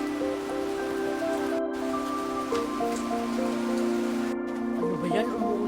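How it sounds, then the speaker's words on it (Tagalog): Rain falls steadily over a background of tonal music, with brief dropouts and faint voices now and then. "Ano ba yan? Umuulan pa?"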